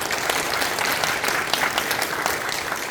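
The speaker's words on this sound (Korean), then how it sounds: "박수 한 번 더 하시겠습니다" Audience applause at a church ordination ceremony, steady dense clapping from a large crowd filling the whole clip at even loudness.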